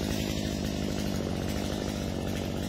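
A brand-new Stihl MS250 gas chainsaw runs steadily and loudly at close range, its engine holding a continuous buzzing drone with no pauses.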